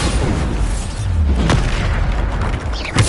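A Bombarda spell blast in a Hogwarts video game sounds as a loud, booming explosion with a rumbling low body and sharp cracks mid-clip and near the end, inside dense game noise.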